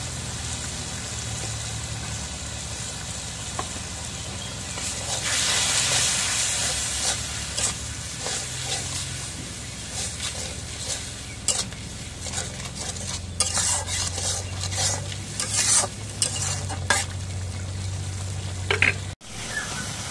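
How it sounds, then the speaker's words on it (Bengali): Cumin and garlic paste fries in a pan for a Bengali dish, giving a steady close sizzle and hiss with repeated scraping strokes of a spoon stirring through, with no talking. "এখন জিরা বাটা, রসুন বাটা দিয়ে দিই।"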